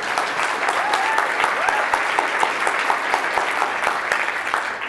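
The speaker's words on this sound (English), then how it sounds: "we should do a round of applause for all the speakers that have already been up here" A conference audience applauds speakers with steady, dense clapping that fills the room and continues throughout.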